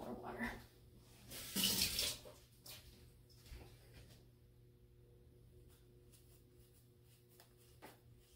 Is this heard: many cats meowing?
no